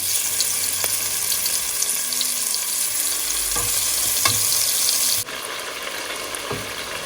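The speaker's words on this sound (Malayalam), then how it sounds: "നമുക്കിനി ഇതുപോലെ ഓരോ ചെമ്മീനും ഇട്ട് വറുത്ത് കോരി എടുക്കാവേ." Prawns deep-frying one by one in hot oil, a dense, close, hissing sizzle with occasional bubbling pops and a brief thump, dipping slightly near the end as frying continues.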